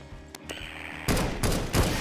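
Gunfire from a Garry's Mod sandbox game, with a few sharp shots early on followed by a dense, loud burst of rapid fusillade filling the second half.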